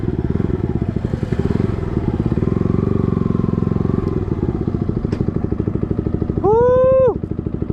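A Yamaha MT15 motorcycle fitted with an SC Project exhaust rides along with a steady, rapid throbbing note close by, and a short rising rev near the end.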